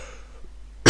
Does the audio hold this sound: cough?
yes